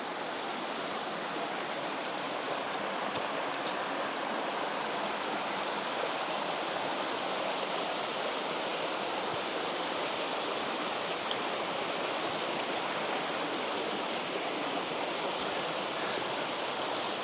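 A mountain stream in Ziyun Gorge, Zhaoqing, rushing steadily with a broad, dense wash of flowing water, constant and close, with no voices.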